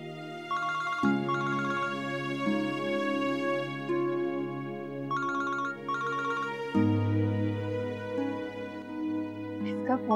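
A phone ringtone plays a repeating electronic melody in bursts over a sustained musical background, ringing on and off several times.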